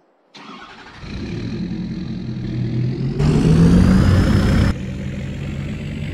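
A car engine cranks and starts, then settles into a steady idle with a brief rise in revs, close and loud with no talking.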